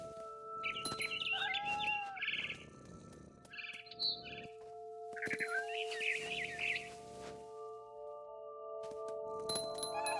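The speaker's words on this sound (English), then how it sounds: "Then I heard chirping outside my window. It was a barn swallow going back to her nest." Barn swallow chirping in the video game What Remains of Edith Finch: a run of short, bright chirps and tweets comes in bursts over a steady ambient game hum, with a few glassy clinks mixed in.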